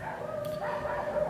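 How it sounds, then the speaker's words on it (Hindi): Dogs barking in the distance, faint and muffled, with a thin whine running over a steady background. "तो कुत्ते भौंक रहे हैं"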